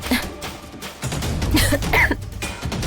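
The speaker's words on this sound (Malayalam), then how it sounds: "പെട്ടെന്ന് ഒരു ചുമ?" A sudden, sharp cough, then throat clearing, close and fairly loud in an indoor drama scene, with a few short bursts over a low background.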